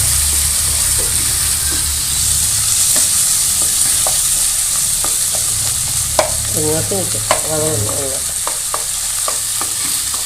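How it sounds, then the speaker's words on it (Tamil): Onion and tomato sauté in a pan for eggplant fry, a steady close sizzle with intermittent scraping stirs and a few brief metallic clinks of the spoon, no talking. "தக்காளியும் ஆட் பண்ணி நல்லா வதக்கிக்கிங்க"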